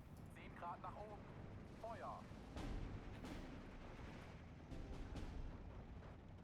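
Units firing in the World War II strategy game Steel Division 2, distant booms and gunshots rumbling under continuous battle noise, with a voice speaking over it.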